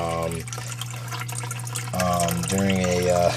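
Water pours and sloshes during a water change in a fire belly newt aquarium, a steady rushing wash with rising, ringing filling tones that swell in two bursts, close and fairly loud.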